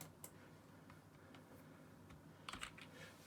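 Soft, quick keystrokes tapped on a computer keyboard by a gamer writing a short message before a match, a quiet steady patter with a brief flurry of louder clicks near the end.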